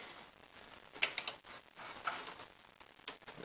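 A hose clamp is worked back onto a car's transmission cooler hose, giving a scattered series of small close metallic clicks and ratcheting snaps, a sharper pair around the middle, with no talking.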